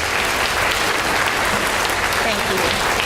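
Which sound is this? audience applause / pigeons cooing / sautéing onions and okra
audience applause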